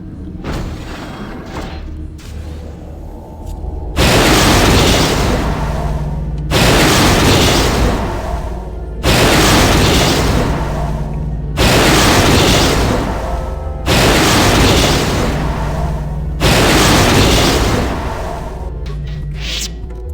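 A run of six loud, rumbling booms of the Star Forge exploding in the KOTOR video game ending, each blast lasting a couple of seconds, following a quieter hum with no talk.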